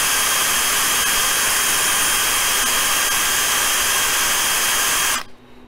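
A steady, loud whirring hiss from a rotary polishing tool working on a pistol feed ramp runs for about five seconds, then cuts off abruptly into quiet.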